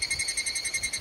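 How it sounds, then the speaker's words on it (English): Cicadas shrill through a Japanese summer, a close, steady high-pitched drone that pulses in quick regular beats throughout, with no voices. "parts about Japan, maybe iconic, are the sounds of the cicadas in the summer"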